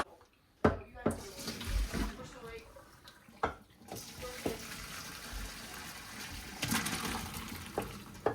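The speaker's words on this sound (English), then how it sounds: "I'm gonna fill my pot back up because I'm also making pasta salad today." Water runs from a kitchen tap into a cooking pot, a steady splashing stream broken by knocks and clatter of handling, with a person talking intermittently.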